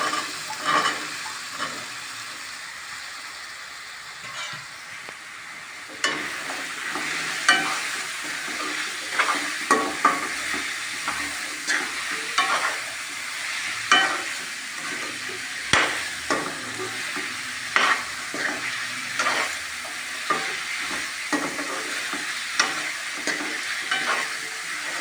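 Mushrooms frying in a pan for a village-style mushroom curry, a soft hiss that grows livelier after a few seconds, punctuated by irregular scrapes and knocks of a spoon, close and moderately loud without speech.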